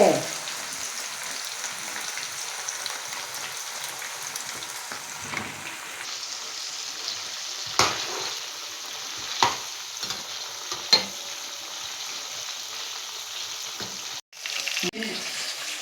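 Chicken pakoda deep-fries in hot oil with a dense, continuous sizzle close by. Occasional clatters of a utensil stand out, and the sound drops out briefly near the end before the frying resumes.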